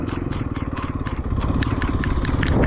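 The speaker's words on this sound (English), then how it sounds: "If you hear sort of a typing sound over the video, it's just a motorcycle" A motorcycle engine runs steadily in the background with a rapid ticking clatter, rough and continuous, on abandoned Route 66 between Montoya and Cuervo.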